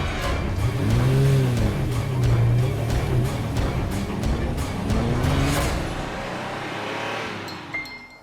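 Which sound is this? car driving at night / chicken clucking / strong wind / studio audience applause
car driving at night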